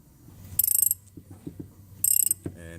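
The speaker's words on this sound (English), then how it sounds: "you get your 24 on the castle nut, and then you just slowly work your way out" A wrench ratchets a castle nut on an extractor pulling a broken spark plug from a Ford 5.4L 3V engine, in two quick bursts of sharp clicking with slower, softer clicks between and a final scrape, close and alone.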